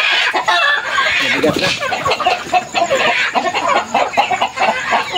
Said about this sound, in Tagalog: Kuhuli tayo ng manok mga idol.